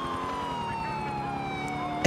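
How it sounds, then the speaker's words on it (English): Police car siren wailing in the video game Grand Theft Auto IV, a continuous sweeping electronic tone held steady and close throughout, with no talk over it. "R doesn't turn off sirens."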